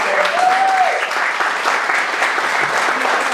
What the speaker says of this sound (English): I just want you guys to all give yourself a little round of applause